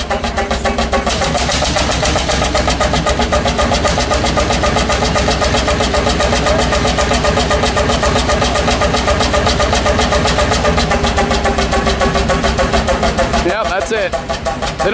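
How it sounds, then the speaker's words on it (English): A Fairbanks engine at an engine show runs steadily close by, a loud rhythmic chugging that continues evenly, then fades near the end. "They got the Fairbanks running."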